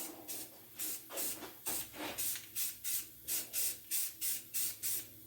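A rattle can sprays white paint onto a Triumph Spitfire's rims in a steady rhythm of short hissing bursts, each about a third of a second long, close and fairly quiet with no talking.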